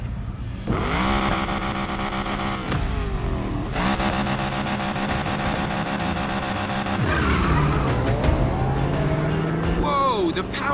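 A racing car's engine roars loud and continuous in the Need for Speed Payback video game, with revs rising and falling and long tire squeals while skidding, layered under game music.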